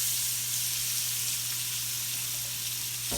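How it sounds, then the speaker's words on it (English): Sliced onions sizzle in hot oil for old-school smothered pork chops, a steady broadband frying hiss that runs unbroken and fairly loud throughout, with a low constant hum beneath and no talking. "I'm going to throw my onions that I sliced. I'm going to put my onions in here."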